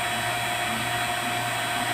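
Vacuum pump evacuating the refrigerant lines of a floor-standing Kolin inverter air conditioner, a steady loud motor whine with constant hum, running unbroken and close up with no talk.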